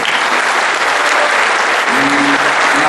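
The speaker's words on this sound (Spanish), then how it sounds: "El aplauso" Applause from a crowd at a retirees' day union assembly: dense, loud, continuous clapping that holds steady from start to finish.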